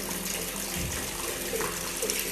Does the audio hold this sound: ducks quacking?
no